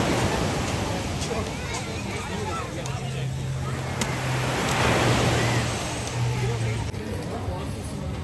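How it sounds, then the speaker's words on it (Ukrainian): Steady wash of sea waves rolling in, a broad continuous roar with wind noise and faint voices in the background. "які хвилі красиві."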